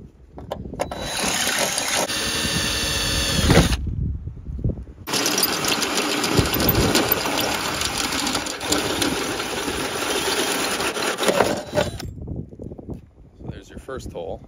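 Power drill with a bit or step bit reaming a hole in a car body while a Nismo V1 spoiler is fitted to a 370z: steady, loud whining drilling runs with a short pause midway, plus some scraping.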